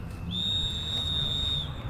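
A steady, high-pitched whistle blown at a 2023 rally stage to warn of an approaching rally car, held for over a second over loud background rumble.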